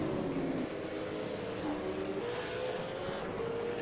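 V8 Supercar in iRacing at Circuit de Spa-Francorchamps, engine droning steadily at high revs with shifting pitch as cars run close together, one brief sharp burst midway, no talk.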